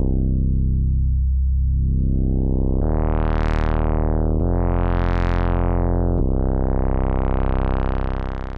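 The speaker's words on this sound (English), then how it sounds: "Set the waveforms to saw and impulse for a squelchy tone, and adjust PD to hear the tones available." A buzzy, squelchy u-he Bazille synthesizer tone with saw and impulse waveforms and a rich saw-like timbre, its brightness sweeping down and up repeatedly across several sustained notes, loud and continuous.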